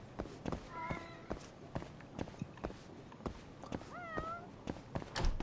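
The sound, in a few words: stray cats meowing in the video game Judgment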